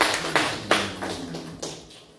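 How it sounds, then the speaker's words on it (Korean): Scattered hand claps from a church congregation at a Mother's/Parents' Day Sunday service, a few distinct sharp claps in a loose rhythm that fade away within two seconds. "하나님께 영광의 박수를 드리시겠습니다."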